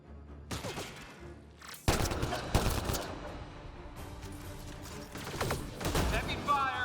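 Dense bursts of heavy gunfire and booming impacts in the video game Mass Effect Andromeda, loud and continuous with sharp cracks, mixed with a voice talking over the combat.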